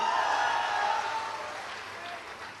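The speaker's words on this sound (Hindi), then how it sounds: "बहुत नौजवान लोग भी बा पीछे से ताली बजा रहल बा" An audience claps at a Hindi-language performance event, a fairly faint wash of applause that fades gradually over a few seconds, with no talk over it.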